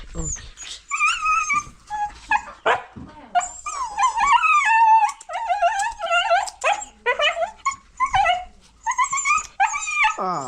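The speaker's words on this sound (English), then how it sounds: "This is the dog right here." A dog barks, yips and whimpers in short excited bursts close by, with no talking over it.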